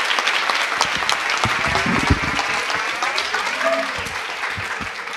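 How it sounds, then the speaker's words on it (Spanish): Audience applause at a Spanish book talk, a steady wash of many hands clapping at moderate loudness with a few voices briefly audible underneath. "Un aplauso"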